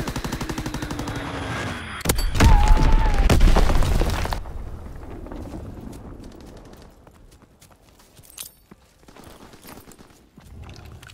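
An enemy bomb explodes in the Call of Duty WWII video game during a competitive 3v3 hardpoint match, a loud crashing blast with a rumbling burst that fades into quieter gunfire and game noise.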